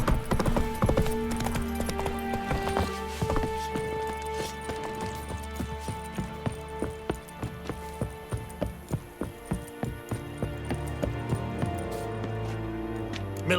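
Horse hooves clip-clop in The Witcher 3 video game, starting as a scattered walk and settling into a steady, evenly spaced trot of clear, fairly close hoof beats over soft background music.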